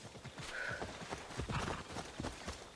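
Horse hooves clop at a steady gait during riding in Assassin's Creed Odyssey, a quick, even rhythm of close, clear hoofbeats over a low bed of wind and ambience.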